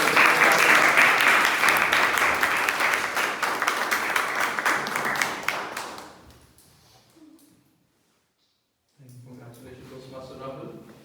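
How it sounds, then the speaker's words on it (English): Applause from an audience at a Toastmasters club meeting, dense and loud clapping for about six seconds that thins out to silence, followed by a voice speaking. "the team of Toastmaster Rahul with a big round of applause."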